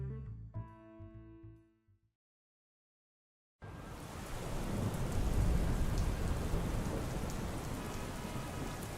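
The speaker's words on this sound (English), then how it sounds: "Perpetual rain endlessly casts itself down at the streets of the city" Steady rain pours down on city streets, a dense, continuous wash that begins abruptly after a few seconds of fading music and near silence, holding loud and even with low rumbling underneath.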